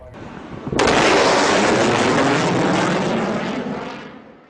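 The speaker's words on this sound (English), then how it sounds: "an F-18 flying too low and too fast shook the foothills area to the core" An F-18 military jet passes low and fast over the foothills near Yuma, a sudden loud roar that starts abruptly, holds as a broad rushing blast for several seconds, then slowly fades, with no talk.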